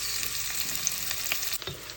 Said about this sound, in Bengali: পেঁয়াজটা একটু হালকা ভাজা ভাজা হয়ে এসেছে বলা যায় লাইট ব্রাউন আর সফট হয়ে গেছে